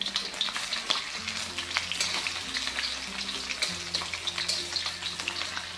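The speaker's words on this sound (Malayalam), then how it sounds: "ഈ മാവ് കോട്ട് ചെയ്ത പനീർ ഇതിലേക്കിട്ട് ഫ്രൈ ചെയ്തെടുക്കാം." Flour-coated paneer cubes fry in hot oil for a chilli paneer dish, giving a steady close crackling sizzle with occasional stirring clinks and no voices.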